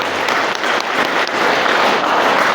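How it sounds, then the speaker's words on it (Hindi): Audience at a yoga talk on women's strength clapping loudly, dense, steady applause filling the whole short stretch. "खुल के ठोक दो ताली, दो ताली बजाने में भी कंजूसी कर रहे हो।"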